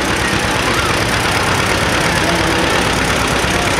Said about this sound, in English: This is a John Deere A.